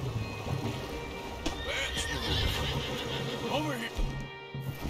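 Horses neigh in Red Dead Redemption 2 over outdoor ambience, with several whinnies overlapping at mid distance and faint hoof movement in the background.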